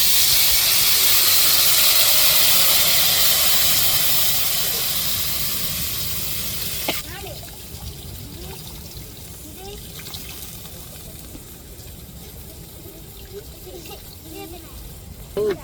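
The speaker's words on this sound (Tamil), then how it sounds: "இப்போ கரைச்ச புளியை சேர்த்துக்கிடுவோம்." Dissolved tamarind water poured into a hot pan of simmering garlic, a loud broad hissing sizzle at first that fades after several seconds into quieter bubbling and crackling.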